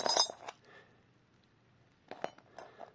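A few bright metallic clinks of cupronickel spoons knocking together, a quick cluster at the start and more light clinks near the end, with quiet in between.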